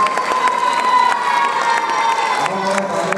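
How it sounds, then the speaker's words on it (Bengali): A crowd cheers and shouts with scattered clapping at the premiere celebration of the Bengali film Shwashur Bari Zindabad, a steady, loud, dense roar throughout with bright whistles and squeals, and no clear talk. "তার জন্য একটা জোরে হাততালি হয়ে যায়"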